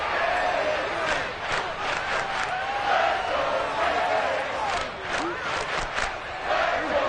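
Stadium crowd in the Madden 23 American football video game cheering and roaring through a big play and the build to a third down, a loud continuous swell with rising bursts of shouting.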